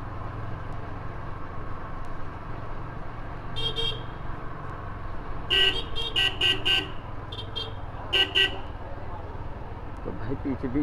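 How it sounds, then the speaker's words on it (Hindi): Several short, loud musical DJ horn blasts ring out in bursts over steady road traffic rumble, heard while riding a Yamaha R15 V2 motorcycle. "कुछ डीजे हॉर्न बजा रहे हैं"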